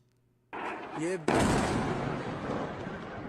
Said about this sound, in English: Watch moment India strike Pakistan airbase with ballistic missiles in huge explosion